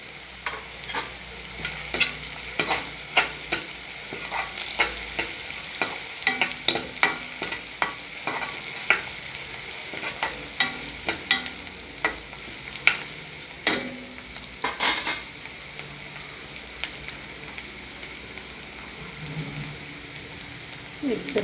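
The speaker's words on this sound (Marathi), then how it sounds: "अजून थोडा आपण भाजून देणार आहोत कांदा" Onion fries in a pan for a usal while a spoon stirs it, giving a steady sizzle broken by frequent scraping and clinking strokes against the pan, close up, with a few faint words of talk now and then.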